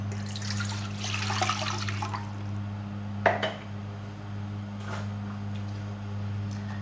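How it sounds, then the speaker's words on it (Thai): Clean water is poured into a multi-purpose pot as the first step of homemade milk ice cream. A rushing, splashy pour lasts about two seconds over a constant low electrical hum, followed by a couple of faint knocks and drips. "ขั้นตอนแรกนะครับผมก็จะใส่น้ำน้ำสะอาดลงไปเลยนะครับ"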